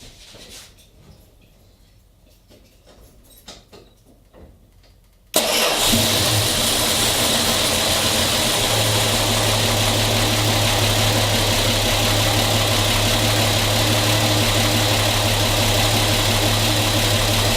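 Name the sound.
car engine starting and idling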